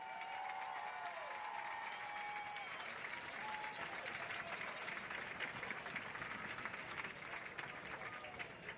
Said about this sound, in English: Please give all our seniors and their families a big round of applause.